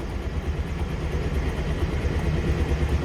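A helicopter flying overhead, its rotor and engine producing a loud, continuous, rumbling thrum that stays steady throughout with no voices.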